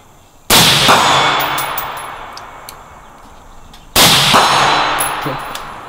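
Two loud gunshots ring out about three and a half seconds apart, each followed by a long ringing tail as a steel target is struck, with no talk.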